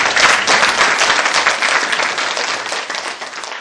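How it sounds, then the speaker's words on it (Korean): Audience at a by-election candidate debate for the Yangsan city council breaks into sustained, dense applause, loud and steady throughout before easing slightly at the end, with no talking over it. "우리 새 후보자에게 다시 한번 뜨거운 박수를 보내드립니다"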